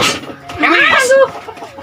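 A chicken's clucking rises and warbles over a short stretch, with people talking nearby in the background.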